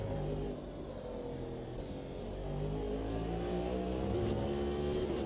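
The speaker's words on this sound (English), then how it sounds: "we're going to slam on the brakes, kick it down into third" Racing car in the Automobilista 2 sim braking hard and dropping down into third gear, a steady droning engine tone that dips then rises as revs change, with no talk over it.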